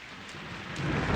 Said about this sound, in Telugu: బాలా వర్షం.